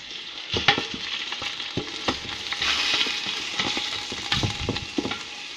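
Sausage browning in hot oil in a pan, a close, steady sizzle broken by irregular pops and crackles, with no voices.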